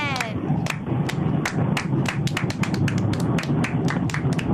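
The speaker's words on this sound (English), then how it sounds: "Spontaneous round of applause, Glenn" A handful of people clap in a podcast studio, giving a quick run of sharp, close taps at an uneven, rapid rhythm, with chatter and laughter mixed underneath.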